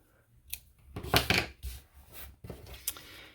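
Scissors snip through ribbon in a few short, crisp cuts with quiet pauses between, one longer cluster of cutting in the middle and a couple of lighter snips later.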